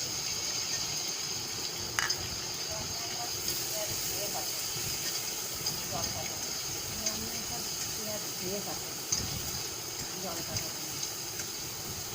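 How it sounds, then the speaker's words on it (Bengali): Chopped onion frying in oil in a pan, a steady soft sizzle and hiss running throughout with a few faint stirring scrapes, heard close and alone. "পেঁয়াজটা ভাজা হচ্ছে।"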